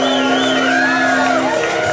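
Crowd noise in a live music hall as a contestant stands on a chair, with sustained cheering, whoops and shouts blending into a dense, steady roar.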